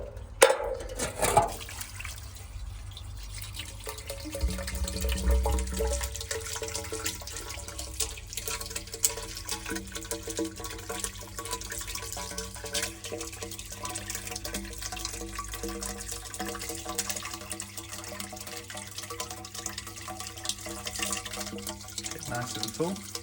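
Water pours steadily from a 10 litre watering can down into an old 19th-century courtyard well, a continuous trickling, splashing flow lasting throughout, with a faint voice at times.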